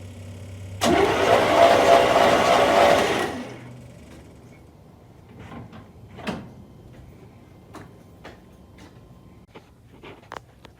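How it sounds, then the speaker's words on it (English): A 1979 Corvette V8, abandoned for 20 years and primed with starting fluid in the carburetor, cranks loudly for about three seconds without catching. Faint clicks and mechanical taps follow in near silence. "I just sprayed starting fluid down the carb, so it should be ready to start."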